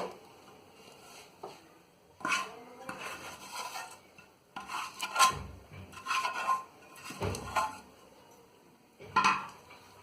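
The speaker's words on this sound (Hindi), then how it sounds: "प्लेट पे निकाल के चम्मच से, कचौड़ी में से भी सब पोंछ लेंगे।" A spoon scraping sticky peanut and jaggery brittle out of a pan onto a plate, several rough metallic scrapes and clinks in irregular bursts with pauses between, close and clear.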